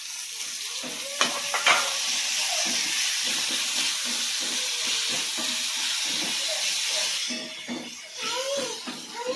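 Tomatoes drop into onions frying in a pan and sizzle loudly and steadily, with a spatula scraping and tapping repeatedly and no voice present.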